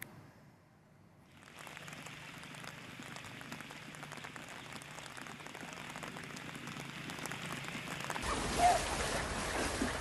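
Heavy rain pours down in a steady, dense hiss on Buru Island in Maluku, Indonesia, during flooding. It starts after a quiet moment, holds a constant roar, and grows slightly harsher near the end.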